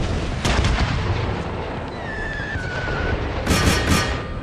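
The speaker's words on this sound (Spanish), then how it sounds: "¡Hostia, qué cañonazos," Cannon fire in a Russian Empire strategy game set in the era of Peter the Great: heavy booming volleys over a constant dense battle rumble, with one blast early and a louder cluster near the end.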